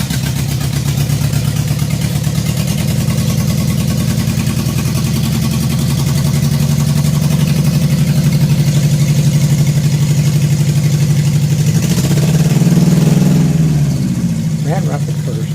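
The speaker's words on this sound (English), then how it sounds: "He was able to find the various non-computer related issues, and the engine finally started." Locost Super 7 kit car engine running roughly after finally starting, a loud close idle with a steady low throb and a swell of revs near the end, with voices talking over it.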